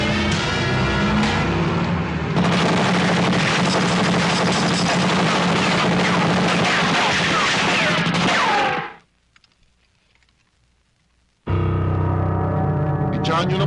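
A 1990s action film shootout brings loud, dense gunfire with rapid overlapping bursts that cut to sudden silence for a few seconds before the shooting resumes.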